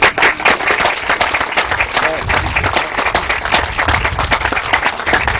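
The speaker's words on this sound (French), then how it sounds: "Il faut l'applaudir." Audience applause at a lecture on the tribe of Judah and royalty, a steady mass of clapping filling the room for several seconds, with some voices mixed in.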